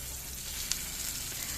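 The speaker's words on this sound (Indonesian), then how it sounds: "Kita masukkan bumbu yang sudah dihaluskan." Ground spice paste sizzles steadily as it goes into a hot pan for a home-style Indonesian stir-fry of chicken liver and gizzard, shrimp and tofu, a continuous close frying hiss with a brief sharper crackle partway through.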